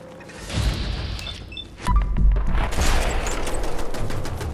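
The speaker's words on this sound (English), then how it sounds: "why is he shooting at me and not shooting at the ghouls?" Enemy gunfire in Fallout 4 rattles out in a sustained burst of shots, fairly loud and close, layered over game ambience, with a few mechanical clicks and no talk.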